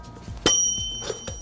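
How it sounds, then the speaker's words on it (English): A bell in a game show rings once with a bright, sustained ding that rings on, followed by a softer second strike, close and clear. "Too bad you didn't ding the bell, Dan."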